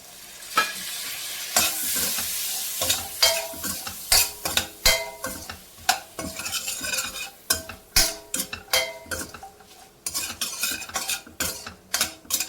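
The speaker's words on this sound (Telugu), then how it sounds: "పన్నీరు ఒక 2 నిమిషాలు ఫ్రై చేసుకుందాం." Paneer cubes frying in a pan over a low flame, with a spatula clinking and scraping in a brisk, irregular rhythm over a constant close sizzle and no voices.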